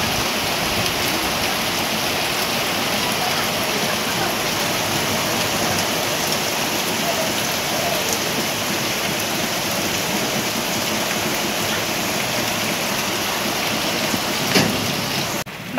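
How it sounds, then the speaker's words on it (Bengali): Heavy midday rain pours steadily outside a home, a dense, even wash of falling water and drops that stays loud and unbroken throughout. "বাইরে কীরকম বৃষ্টি হচ্ছে।"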